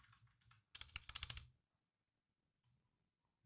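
Quick typing on a computer keyboard, a few soft taps and then a dense, close burst of clicking keystrokes, followed by near silence and a couple of faint taps.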